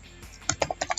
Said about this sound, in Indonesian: saya ketik di sini, saya ketik ya